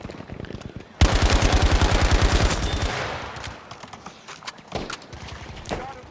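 Bursts of automatic gunfire in the Battlefield V jungle map, a fast rattling volley up close followed by scattered distant shots and single cracks.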